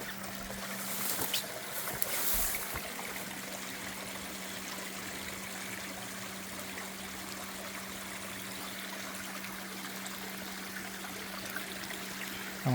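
Koi pond pump running as water flows steadily through a DIY 5-gallon bucket filter in a backyard pond, a continuous close trickle and rush with a low pump hum underneath, a brief louder splash near the start.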